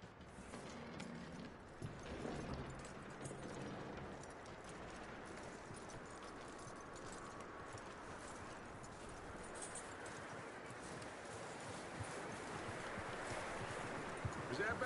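A horse's hooves clip-clop over a windy outdoor background, steady and moderately close, with faint ambient noise and no clear talk.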